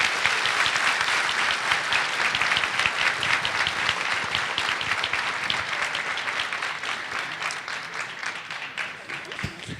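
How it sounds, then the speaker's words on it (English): A conference audience at a keynote on queering disability and sex claps steadily and loudly, a thick continuous wash of hands that slowly thins toward the end. "maybe another round of applause before we split the room again"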